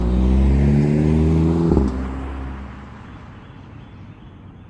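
A 2012 Audi TTS four-cylinder in sport mode pulls hard, its engine droning loud and steady from inside the cabin, then a quick gear change cuts in and the note drops away to a quieter hum.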